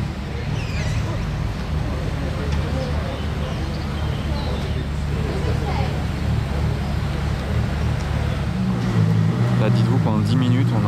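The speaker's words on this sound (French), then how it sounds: "Oh, cet enchaînement d'hypercar les amis" Hypercars such as a Bugatti Chiron, Pagani Huayra and Ferrari, plus AMG models, rumble past on the Monaco Grand Prix street circuit, a continuous loud engine drone that swells near the end, with voices talking over it.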